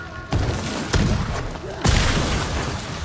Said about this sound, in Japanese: すげえ爆発してるわ